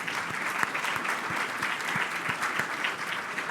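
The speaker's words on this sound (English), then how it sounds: "Big round of applause for both of them" Steady applause from a conference audience at the close of a panel on autonomous vehicles, dense even clapping sustained throughout at moderate level.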